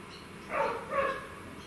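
A dog outside at feeding time gives two short barks in quick succession, faint and distant against a quiet background.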